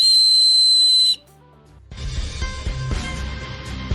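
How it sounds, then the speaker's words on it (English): A dog whistle gives one loud, sustained high-pitched tone for about a second, then cuts off and is followed by indistinct background noise. "I just bought a dog whistle."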